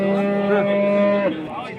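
A cow moos loudly and close at a livestock market in Namangan, giving one sustained low call that rises slightly and then tails off.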